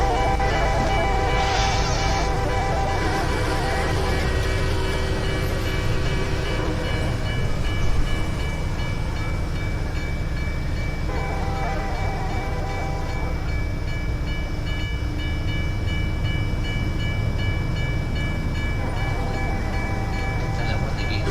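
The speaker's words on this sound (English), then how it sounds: "You have to wait for this intermodal to pass." An intermodal freight train rolls past a grade crossing with a continuous, fairly loud rumble and squealing wheel tones that hold for the whole stretch, swelling briefly partway through.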